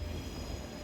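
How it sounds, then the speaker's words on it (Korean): A train runs past on its tracks, a dense, continuous low rumble of wheels and carriages heard close by for a brief moment. "하염없이 어디론가 달려가는 기차를 바라보았습니다."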